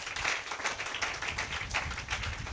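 A church congregation claps together in praise, a dense, fairly loud burst of many hands in quick irregular rhythm lasting a couple of seconds.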